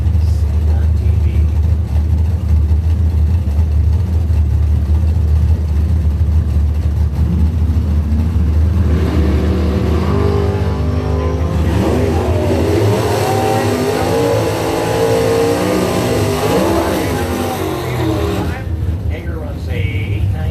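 Doorslammer drag race cars at a Blue Oval Battle qualifying event roar down the track, a loud continuous engine drone with rising revs in the middle and a voice talking over it.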